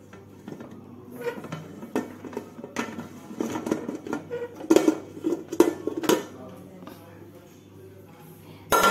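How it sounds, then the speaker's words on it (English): Metal pots, lids and utensils clink and clatter irregularly in a kitchen as a pressure cooker holding a baked Christmas fruit and rum cake is opened, with a voice speaking faintly underneath. "I'm going to open the pressure cooker and check how my cake"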